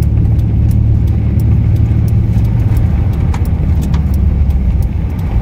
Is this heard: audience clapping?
no